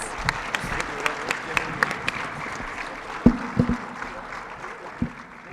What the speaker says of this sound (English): One more round of applause for all of these great individuals